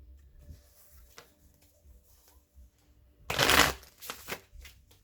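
A tarot deck is shuffled in one loud, dense riffle burst with a few shorter card flicks after it, close by in a quiet room with no talking.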